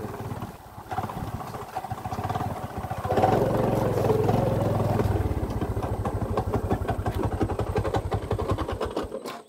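A motorcycle engine runs steadily nearby, with a chattering, uneven mechanical idle and a rattling clatter that continue throughout.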